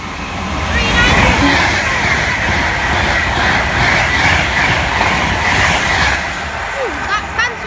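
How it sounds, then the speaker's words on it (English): An Avanti West Coast Class 390 electric passenger train from London Euston to Manchester Piccadilly races past on the West Coast Main Line at Kings Langley, a loud, steady roar of wheels and rushing air with rail clatter and a brief squeal near the end. "So now approaching with speed is a Avanti West Coast service from London Euston to Manchester Piccadilly"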